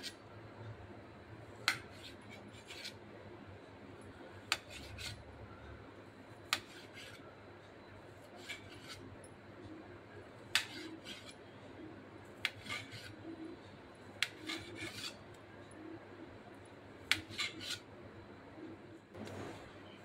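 Cooked fish roe (gaboli) being cut into pieces on a plate, a series of faint, sharp knife clicks spaced unevenly across a quiet background.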